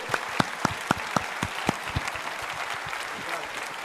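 A church congregation at an Assembly of God service in Bom Retiro, São Paulo, claps, opening with several sharp, distinct claps that blend into a denser, fading round of applause, with faint voices mixed in.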